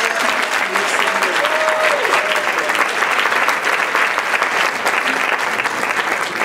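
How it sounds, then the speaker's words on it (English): A large audience applauds continuously and loudly at a National Council of Negro Women ceremony, a dense, even wash of clapping with faint voices underneath. "you want to give a big round of applause for all of them?"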